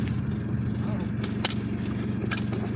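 A car engine idles with a low, steady rumble and a brief knock partway through, while a person talks nearby.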